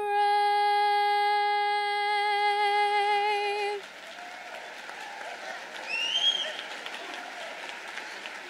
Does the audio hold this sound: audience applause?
yes